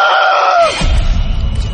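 A man lets out one loud, drawn-out scream that falls in pitch and fades into a low rumbling background, a dramatic moment in a haunted-garage horror story.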